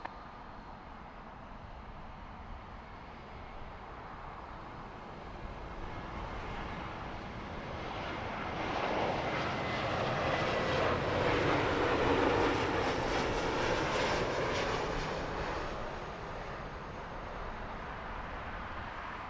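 A Vueling airliner arriving from Barcelona lands on runway 09 left at Heathrow, a broad distant roar that swells gradually to a peak midway and then slowly fades.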